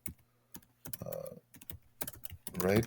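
Someone types on a computer keyboard at close range, with scattered single keystrokes and then quicker bursts, and brief faint speech near the end.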